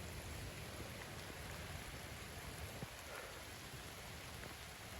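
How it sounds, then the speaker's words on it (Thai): Steady rainfall pours down at a countryside spot, a dense, even hiss of drops on surfaces that stays constant and fairly quiet, with a few faint taps and no voices. "ก็ฝนตกนะ"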